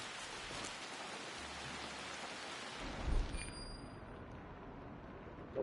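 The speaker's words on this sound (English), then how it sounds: "Nice rainy autumn day." Steady rain pours in an autumn forest in the Assassin's Creed Shadows video game, a dense even hiss throughout with a low thump near the middle and no talking.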